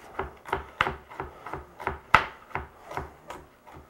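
A kitchen knife chops carrots into smaller pieces on a cutting board, about a dozen evenly spaced, close, sharp strokes in a steady rhythm.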